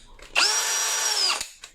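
An original Dongcheng cordless drill runs on a 20V lithium battery, giving a single steady high-pitched whir of about one second that starts and stops abruptly, close and clear.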